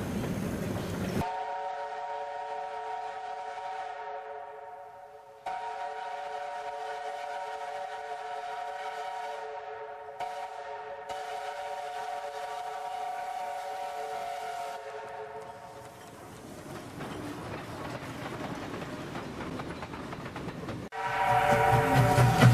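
Steam locomotive SY1658M, number 58, sounds a long multi-tone whistle several times in succession, loud and clear, before the rumble and clatter of the running train swells toward the end.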